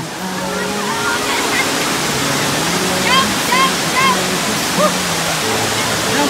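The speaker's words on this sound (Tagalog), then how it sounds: "Talon!" The Maapon Falls waterfall roars in a constant, loud rush of falling water, while people shout and call out over it during a trek.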